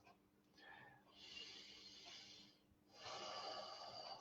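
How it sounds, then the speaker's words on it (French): A person draws slow audible breaths during a guided meditation, two soft airy inhalations separated by a brief pause, quiet and close. "J'inspire."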